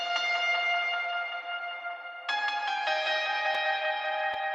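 Grand piano from a stock sound bank with boosted mids, treated with generous delay, reverb and multi-band compression; sustained ringing chords with echoing repeats, a fresh chord struck midway, and clear and steady throughout.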